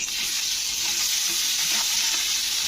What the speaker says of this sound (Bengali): তো পেস্টটা দিয়েও কিন্তু দু মিনিট মতন নাড়তে হবে